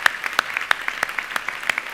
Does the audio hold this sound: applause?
yes